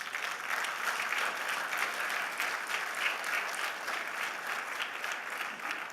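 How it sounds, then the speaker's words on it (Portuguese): A congregation applauds during a pastors' church gathering, a bright, sustained wash of many clapping hands that stays even and unbroken throughout. "Então pode dar um aplauso a Jesus"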